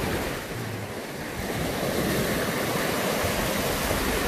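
Steady roar of Black Sea waves and surf close by at Sfântu Gheorghe, Romania, with a broad rushing wash and some wind noise, no voices.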